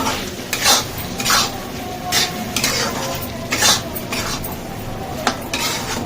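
A spatula stirs chicken fry with coriander in a metal pan, scraping and clinking in irregular strokes over a continuous close sizzle.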